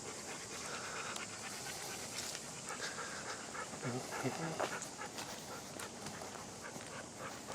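Dogs pant rapidly nearby, a steady breathy rhythm with an occasional small whimper, set against a faint background hiss.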